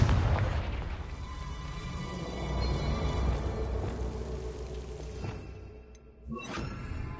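A Confringo blast spell in the Hogwarts Legacy video game lets out a loud, booming explosion with a rolling crackle and whoosh that fills several seconds, then a brief dip and a sharp final burst.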